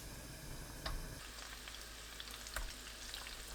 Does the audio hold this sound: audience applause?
no